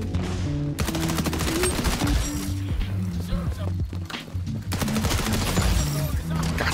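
Automatic weapon fire in the shooter XDefiant, sustained rapid bursts of shots that break off briefly and resume, loud and close, with game music and sounds underneath and a voice talking over it.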